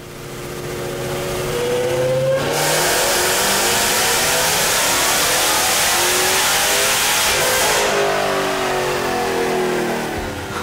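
Supercharged Jeep Grand Cherokee Trackhawk running on E85 with a stage-2 upgrade, pulling hard on a chassis dyno: loud, close engine roar that climbs steadily in pitch through a full-throttle run before backing off and winding down.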